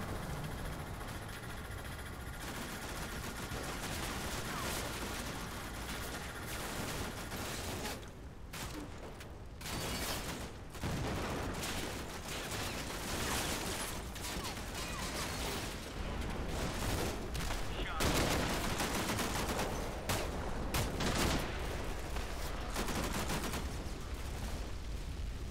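Gunfire and machine-gun bursts from the video game Combat Mission Shock Force 2 as firepower pours onto a city area, dense rattling volleys and distant booms running continuously under a low engine rumble.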